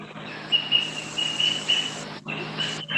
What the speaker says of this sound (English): Oh, that's your birds making noises?